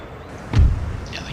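A single deep, muffled boom of artillery fire sounds in an Empire Total War battle, short and moderately loud, then a faint rumbling tail. No voices are heard.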